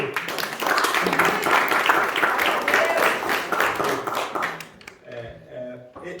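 A church congregation applauds during a Sunday service in dense, steady clapping that fades out near the end, after which a voice begins speaking.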